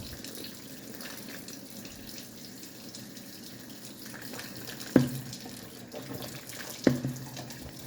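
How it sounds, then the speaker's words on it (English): Halved potatoes rinsed under a running kitchen tap to wash off starch and dirt: a steady, soft hiss of flowing water, with two brief clunks near the end as the potatoes are handled. "then you halve them, and then you rinse them again, get any excess starch out"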